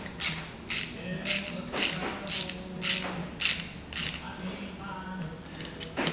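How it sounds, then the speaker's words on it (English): A cap screw is tightened with a 5/16 hex key, giving about eight evenly spaced sharp ratcheting clicks close up over a faint background hum. "It's going to be that same 5/16 hex key as we used for all these other cap screws."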